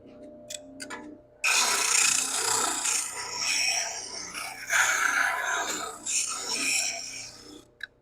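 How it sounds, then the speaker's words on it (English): A small sander works the inside of a wooden bandsaw box. After a few light taps, a loud, continuous rasping rub starts and carries on with shifting intensity to the end. "I can sand the inside."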